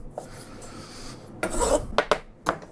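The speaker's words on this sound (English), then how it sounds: "So I'm just cutting big chunky pieces of lardons of bacon here." A knife cutting chunky pieces of pork belly bacon into lardons on a board, heard as soft rasping strokes and several sharp thuds of the blade hitting wood at close range.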